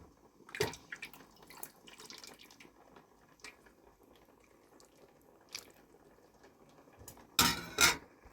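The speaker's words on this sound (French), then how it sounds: "je vais rajouter mes pois chiches. Je vais bien mélanger." Chickpeas being stirred into couscous in a pot give off scattered clinks, scrapes and soft wet shuffles, quiet and irregular, ending in a pair of louder metallic knocks.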